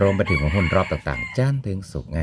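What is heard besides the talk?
rooster crowing in the background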